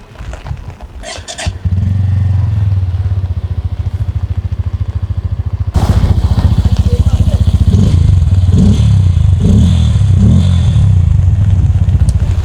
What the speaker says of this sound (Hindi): So this is the exhaust note जो बजाज ने N160 के लिए दिया है